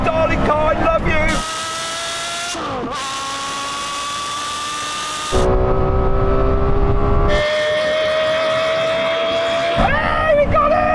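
A Porsche Carrera GT's V10 engine screams through rising revs and sharp gear shifts in a drag race against a Lexus LFA. Its loud, high-pitched wail repeatedly climbs and drops, with talk layered over it.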